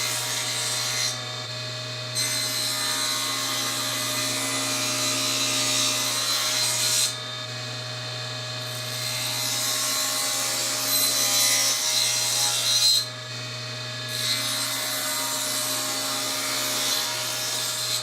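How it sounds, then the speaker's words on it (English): Table saw making a bevel cut through a wooden panel, a steady droning whine with a hum underneath, rising in intensity during three separate passes, no voices. "That's the bevel cut on the panel."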